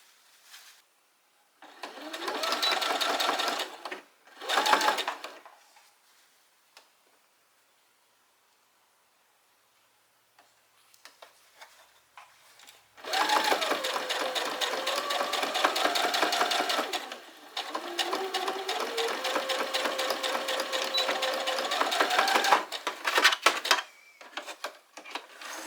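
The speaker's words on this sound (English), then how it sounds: "now I just have to sew this up" Sewing machine stitching an infinity scarf, a fast mechanical whirr in two short bursts, then a pause, then a long steady run of close, even stitching with a brief stop partway.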